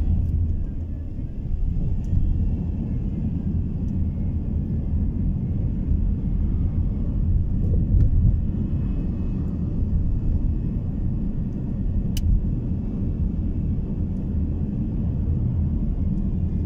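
Steady low engine and road rumble from inside a moving car between Bury Park and Dunstable, UK, constant and droning with no voices, only a couple of faint clicks.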